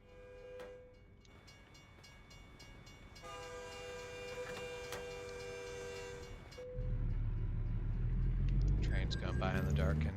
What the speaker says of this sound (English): Train's going by in the dark and you really can't see any of it.